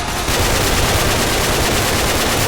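An M60 machine gun fires in Left 4 Dead 2. The bursts are rapid and sustained, loud and close, and run continuously without pause.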